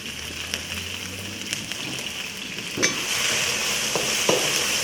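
Chicken stir-frying in a very hot wok at a cooking demonstration gives a steady, close sizzle with occasional sharp scrapes and clinks from stirring.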